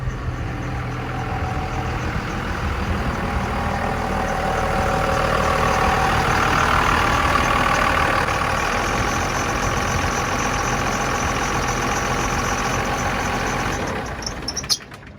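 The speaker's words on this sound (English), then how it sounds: "this is my new 1999 Dodge Ram 2500 turbo diesel. It's a Cummins 24 valve." A 1999 Dodge Ram 2500 with a Cummins 24-valve turbo diesel idles steadily and loudly close by, a continuous low rumble with diesel clatter and a faint rising turbo whine.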